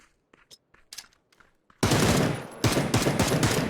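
Gunfire in a PUBG match on the Sanhok map: a few faint scattered shots, then a sudden loud close-range volley of rapid automatic fire that continues to the end.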